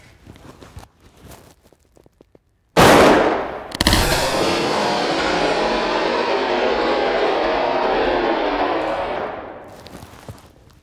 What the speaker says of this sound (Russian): Нет, выстрелим в него из 12-го калибра.